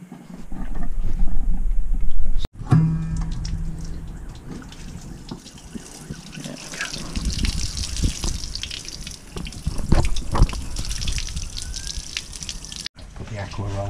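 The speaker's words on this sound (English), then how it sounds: "I'll open up the taps." Water gushes from a motorhome's open taps with splashing and a few clunks, while a person talks nearby.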